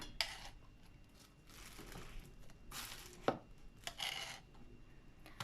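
Several sharp knife chops through eggplant on a cutting board, spaced irregularly with short pauses between them, close up and with no voices.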